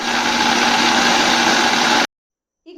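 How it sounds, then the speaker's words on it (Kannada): A mixer grinder churns rice and jackfruit into a smooth batter for Havyaka tellevu, a loud, steady whirring drone for about two seconds that stops abruptly into silence, followed by a faint short noise. "ಇದನ್ನು ಒಮ್ಮೆ ನೈಸಾಗಿ ರುಬ್ಕೊಂಡು ಬರೋಣ."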